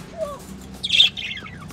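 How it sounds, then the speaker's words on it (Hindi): Caged parrots give a short, loud, harsh squawk near the middle, with a smaller chirp just before it, close by over low background hum. "आज हम फिर तोतों के पिंजरे में आए हैं। देखे कितने प्यारे प्यारे तोते हैं"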